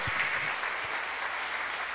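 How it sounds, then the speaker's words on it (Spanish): A church congregation at a Spanish-language Christian sermon claps together in steady, loud applause that fills the whole moment without pause. "Démosle un fuerte aplauso al Señor"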